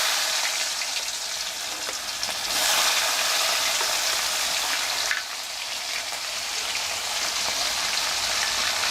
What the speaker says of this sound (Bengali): মাছ ভাজার পরে যে অবশিষ্ট তেল রয়েছে সেই তেলের মধ্যে এখন আমি দিয়ে দিচ্ছি রসুন কুচি